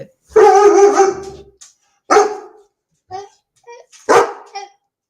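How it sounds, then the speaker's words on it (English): A dog gives a handful of short, sharp barks in separate bursts, fairly close, with gaps of quiet between them and a voice speaking in the pauses. "He's having a little bark, aren't you?"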